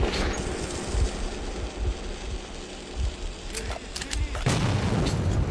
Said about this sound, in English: And grenade out again.